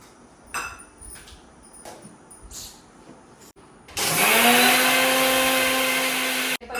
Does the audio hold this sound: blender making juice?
yes